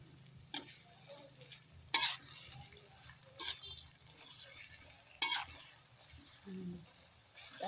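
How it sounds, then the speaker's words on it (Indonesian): Chicken liver and gizzard with cabbage stirred slowly in a pan with oyster sauce, faint sizzling under sharp intermittent scrapes of a spatula against the pan, close and quiet. "aduk pelan saja pemirsa supaya matangnya merata"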